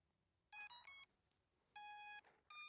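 A Ruko F11GIM2 budget 4K drone powers on with three bright electronic beep tones, two longer and one cut short, against a quiet background with no talking.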